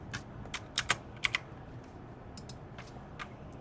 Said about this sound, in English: U and I are very close together on the keyboard.